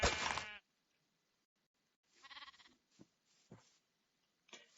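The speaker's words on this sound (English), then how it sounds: "I'm a guy who's playing Minecraft, killing sheep, and virtual sheep at that." Virtual sheep in the Minecraft video game bleat in short, separate bursts: one loud bleat, then several fainter ones spaced apart with quiet gaps between them.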